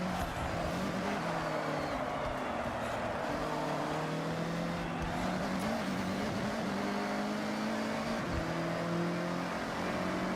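A Mazda Miata's engine drones loudly and continuously in the Forza Horizon racing game, a steady buzzing tone that rises and falls slightly with throttle.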